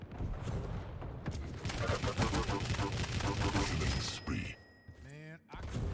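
Rapid gunfire and explosions fill a 2v2 arena shooter grand final, dense overlapping shots and impacts with a whining weapon sweep near the end, while commentators talk over the action.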